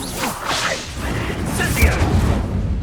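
A disarming spell is cast in the game Hogwarts Legacy: a quick magical whoosh and swish with a sharp burst near the end, layered over game effects and a faint voice.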